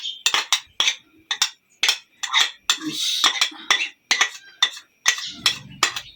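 Capsicum and vegetables being mixed into mashed potatoes in a metal bowl, a run of sharp close clinks and scrapes of a utensil against the dish in quick irregular bursts.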